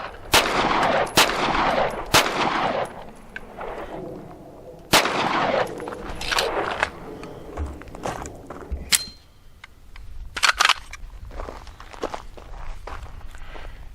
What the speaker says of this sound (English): when it comes to shooting fast with this pistol, yeah, you can really crank them out.